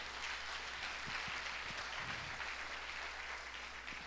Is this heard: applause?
yes